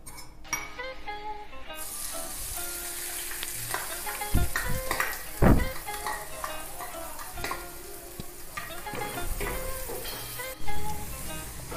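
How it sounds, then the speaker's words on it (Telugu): Thinly sliced onions sizzling and frying in hot oil in a pan, a steady close crackle with occasional stirring scrapes and clinks of a utensil against the pan. "ఆయిల్ హీట్ అయింది. ఇప్పుడు సన్నగా కట్ చేసుకున్న ఆనియన్స్ వేసుకుందాం."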